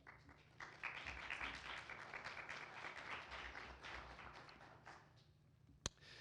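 Audience at a Constitution Day event on the 19th Amendment claps for the panelists, a quiet, distant patter of hands that swells then thins out, ending with one sharp knock.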